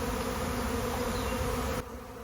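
A honeybee swarm drones in a steady, dense buzz as it gathers at the bottom of a stack of hive supers, the hum continuous and close before dropping abruptly quieter near the end.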